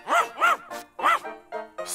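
A cartoon dog barks in a French animated comedy: three bouncy, voiced barks in a quick rhythm followed by shorter yips and whimpering sounds, close and clear with no talk over them.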